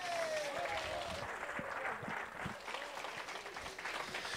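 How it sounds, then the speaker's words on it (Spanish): A church congregation claps together in steady, dense applause throughout, a continuous crackle of many hands filling the room with a few louder individual claps standing out. "Dale un fuerte aplauso al Señor"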